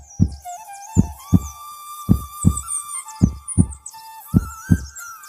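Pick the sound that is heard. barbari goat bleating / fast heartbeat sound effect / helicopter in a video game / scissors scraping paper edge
fast heartbeat sound effect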